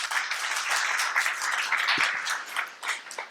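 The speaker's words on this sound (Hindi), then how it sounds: "दोनों बहनों के लिए ताली बजाओ।" Audience clapping for two sisters at a spiritual discourse gathering, a steady dense patter of many hands that stays fairly loud and even throughout.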